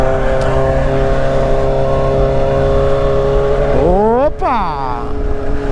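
A Kawasaki Z900RS fitted with an Atalla stainless steel 304 header and slip-on exhaust drones loudly and steadily up close, then the engine revs sharply up and back down near the end.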